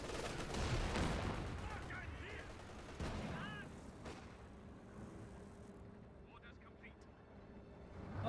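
Gunfire in Company of Heroes 2 during a multiplayer battle, with scattered shots and a sharp burst near three seconds under a steady battlefield rumble, while a commentator talks throughout.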